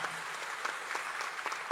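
Applause from an audience at a stand-up comedy show in a church setting, a steady dense patter of many hands clapping throughout, moderately close.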